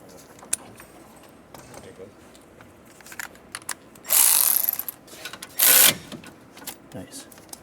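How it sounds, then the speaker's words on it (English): An electric ratchet tightens bolts on a Ford Fusion engine during a timing belt and water pump job, giving two loud buzzing whirs of about a second each, close up, with clicks and handling noise before and after. "Can I see the electric ratchet first?"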